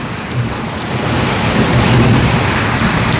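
Heavy rain pours steadily in a Uttarakhand mountain village, a dense continuous roar with low rumbling beneath that swells slightly and holds loud throughout, with no talking.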